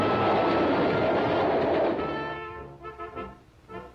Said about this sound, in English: Ski enthusiasts travel to high mountain slides in special conveyances known as ski trains.